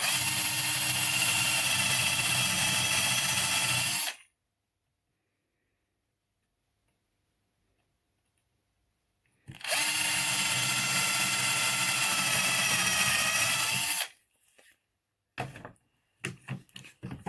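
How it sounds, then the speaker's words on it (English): A power drill whines loudly in two long bursts separated by silence, drilling halfway into wood for a dowel joint, followed by a few short clicks and scrapes. "Put my drill on. I'm going to drill halfway."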